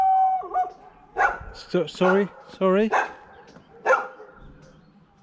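A dog barks a handful of times at close range in Bellapais village, Cyprus, with sharp, pitch-sliding yelps in an uneven rhythm between bits of nearby talk.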